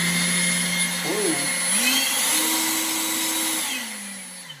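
An EGO 650 CFM brushless leaf blower whirs steadily up close, its motor pitch shifting and climbing as speed changes, then winding down near the end.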